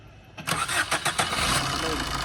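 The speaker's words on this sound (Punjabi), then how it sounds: "ਤਾਂ ਚਲਾਈ ਮੜਾ ਗੱਡੀ ਆਪਾਂ ਦੀ ਸਾਊਂਡ ਵੀ ਦਿਖਾ ਦੀ ਇੱਕ ਵਾਰੀ" A Maruti Ritz hatchback parked at home cranks with a few quick stutters and catches, then settles into a steady idle. Someone speaks nearby.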